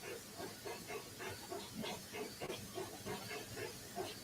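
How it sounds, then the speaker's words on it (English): A video-game steam locomotive hauls a long train up a snowy grade, giving off soft, rhythmic hissing puffs in an even, chuffing cadence that stays faint and fairly steady throughout. "you can pull a really long train with a steam engine in the snow"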